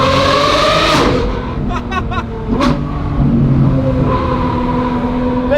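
A Lamborghini Revuelto's V12 roars loudly while driving rocky mountain roads, revving up and shifting with sharp rising engine tones and brief crackles, close and continuous.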